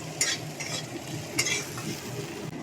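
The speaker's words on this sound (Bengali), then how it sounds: "তেলের মধ্যে আমি পেঁয়াজটা ভেজে নিচ্ছি।" Diced onions sizzle in hot oil in a pan over low heat, a soft steady fry broken by a few scraping stirs of a spoon, close and fairly quiet with no talking.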